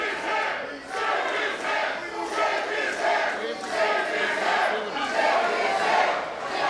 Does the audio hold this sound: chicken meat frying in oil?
no